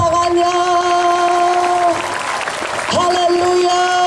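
A church congregation at an evangelistic revival service in Sibolga claps loudly and continuously, while sustained musical tones from instruments ring over the clapping throughout.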